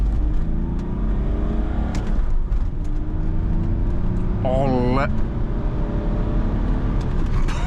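A manual 2004 BMW E46 330d diesel pulls hard on the motorway, a steady engine drone and road roar continuing under someone talking, with a brief rising whine near the middle.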